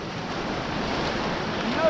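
Shallow sea water with the tide coming in at a rocky coast with caves: a steady, close wash of rushing, hissing water with a slight swell toward the end, mixed with some wind noise.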